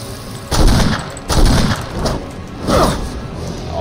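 Gunfire in a Resident Evil video game: four heavy booming shots spaced roughly a second apart, loud and close.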